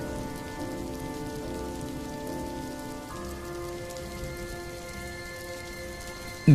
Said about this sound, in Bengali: বৃষ্টিটা দেখছি আরো বাড়ছে।